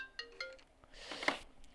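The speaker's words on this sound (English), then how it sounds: "phone has to ring" A phone rings in a room during a Minecraft play session, a few short tonal bursts followed by a brighter electronic trill, fairly faint and heard alone without talk.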